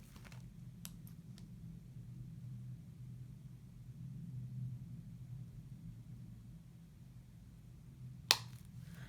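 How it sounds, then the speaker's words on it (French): Suitcase wheels rolling past make a low, thunder-like rumble that swells and fades over several seconds, muffled and moderately quiet, followed by one brief sharp click near the end. "c'est quelqu'un qui passe avec une valise, le bruit des roues. Je pensais que c'était le tonnerre"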